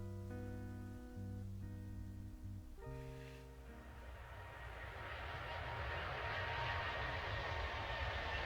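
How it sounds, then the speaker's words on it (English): Steady airplane engine drone from the video game Gibbous, a continuous humming roar that swells slightly louder toward the end, heard alone with a synthesized musical tone sequence over the first few seconds. "Airplane noises!"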